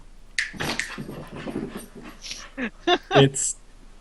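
A pet dog at home whimpers, yips and pants in short, uneven bursts, fairly close, with a few sharper high yelps toward the end, over quiet background talk.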